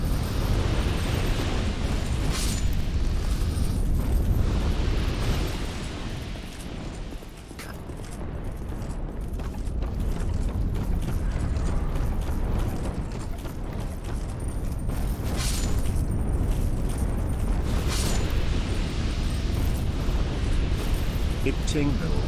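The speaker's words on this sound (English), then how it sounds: "Those exploding guys are exploding with acid." Acid-spewing enemies bursting in Dark Souls 2: Scholar of the First Sin, heard as loud, rumbling eruptions and clattering game action throughout, with people talking over the din.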